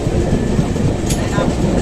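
Passenger train on the Mysore to Varanasi route, heard from inside a carriage: a steady, dense rumble and rattle of wheels on rails, loud and continuous throughout.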